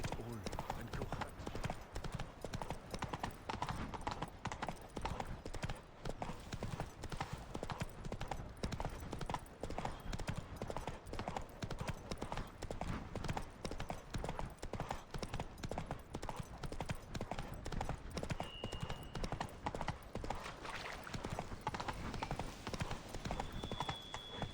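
A horse gallops with steady, continuous clip-clopping hooves in The Witcher 3: Wild Hunt, a dense rhythmic drumming that runs the whole time under game sounds and a speaking voice.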